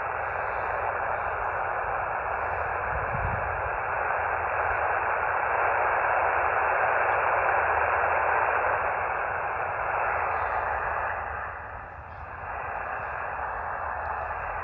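Elecraft KX2 ham radio on a small antenna, hissing with steady band static that fills the whole clip, a faint distant station barely present beneath the noise, with no voice nearby.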